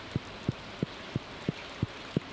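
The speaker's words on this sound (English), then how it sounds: "It's raining, so nobody's going outside, basically." Rain falls in Stardew Valley as a soft, steady hiss, with evenly spaced soft thumps repeating about three times per second over it.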